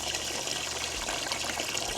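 Water pours steadily into a homemade yellow jacket trap, a continuous close hiss and splash with no break and no talk.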